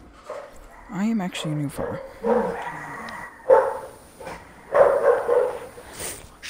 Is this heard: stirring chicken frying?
no